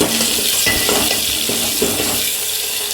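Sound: onion and tomato frying in a pan

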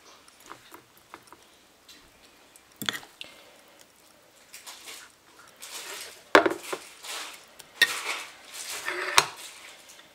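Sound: pouring oats idli batter into oiled idli plate

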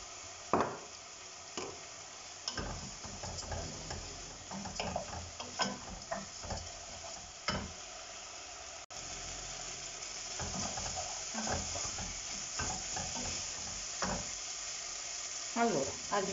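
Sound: white wine evaporating in a risotto pan

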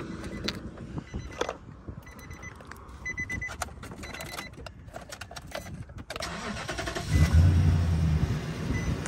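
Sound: auction car engine cranking and starting

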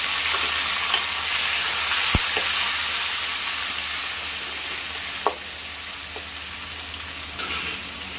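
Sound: frying onions and tomatoes in a pan

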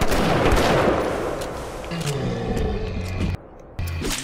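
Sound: shotgun firing in video game BioShock

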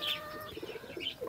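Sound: pigeons cooing

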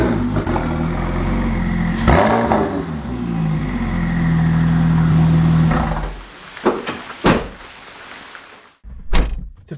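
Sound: Porsche 911 Turbo engine running

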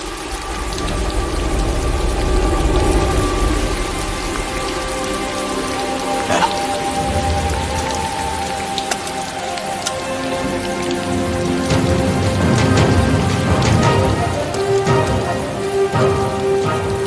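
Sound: rain falling

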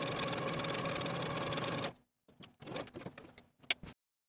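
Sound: sewing machine sewing long basting stitches on bodice

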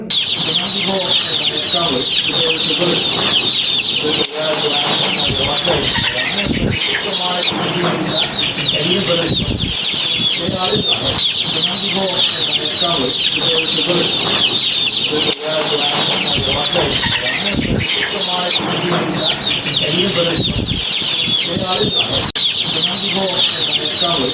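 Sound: chickens clucking

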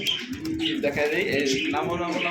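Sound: pigeons cooing

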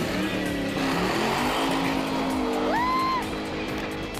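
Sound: front wheel drive turbo car accelerating off the line

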